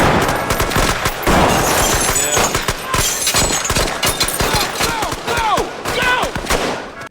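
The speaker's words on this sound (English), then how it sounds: "This is a crazy shootout." Rapid gunfire from a shootout in the TV crime drama The Wire, set in Baltimore: dense bursts of loud, close shots crackling one after another across the whole stretch, with brief echoing tails and no talk.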